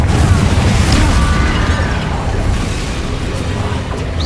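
Confringo fire spell blasts in the video game Hogwarts Legacy, a loud, dense rumble of booms and bursts that holds steady with no break, thick and close.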